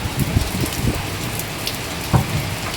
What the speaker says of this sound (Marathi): किती जोरात आलेला आहे पाऊस घरात यायला लागला सगळा